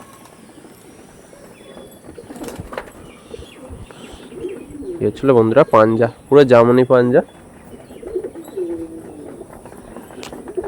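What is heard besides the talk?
pigeons cooing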